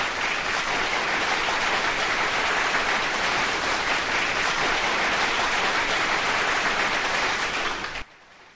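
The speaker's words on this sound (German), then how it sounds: "Die kriegen jetzt einen Applaus von mir" Sustained, dense applause plays on a German talk radio show, a steady wash of many hands at an even loudness that cuts off abruptly near the end.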